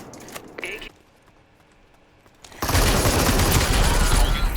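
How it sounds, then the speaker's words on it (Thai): Gunfire in a battle royale shooter, a short burst, a quiet gap, then a loud sustained barrage of close rapid shots with someone talking. "ยิงกันไวมากเลยนะเนี่ย คือยิงกันแบบตายโคตรไว"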